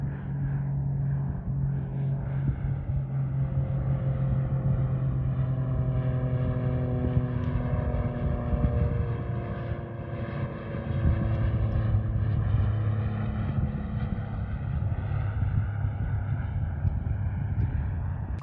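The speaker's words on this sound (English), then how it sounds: "That was a twin-engine plane with a big boom hanging off the tail." A twin-engine plane with a big boom hanging off the tail drones past steadily, its propeller hum sliding gently in pitch as it passes at a moderate distance, heard near a sailboat with no voices.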